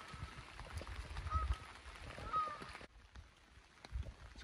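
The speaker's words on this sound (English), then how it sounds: "Yes, the geese." Geese honk by a tidal estuary during autumn sea fishing, a few short calls at moderate distance over quiet water and breeze, with no talking.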